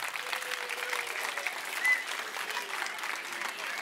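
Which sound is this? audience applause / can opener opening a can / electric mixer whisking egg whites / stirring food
audience applause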